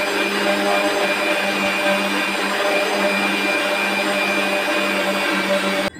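An electric blender mixes a mango lassi of mango, yogurt and a pinch of salt in a lidded container, giving a loud, constant motor whine with steady tonal hum. It runs unbroken for several seconds, then cuts off abruptly at the end.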